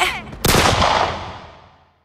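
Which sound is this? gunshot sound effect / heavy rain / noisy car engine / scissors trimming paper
gunshot sound effect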